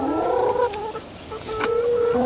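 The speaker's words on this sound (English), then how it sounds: "these are factory farm turkeys and ex-battery hens" Factory farm turkeys and ex-battery hens cluck nearby in short, repeated calls over a steady low murmur of the flock.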